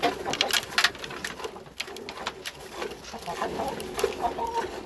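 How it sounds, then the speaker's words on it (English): Chickens clucking and calling around a small family farm where a milk cow is kept, with scattered short bird calls over steady outdoor background noise, fairly close and moderately loud. "My chickens are all over the place"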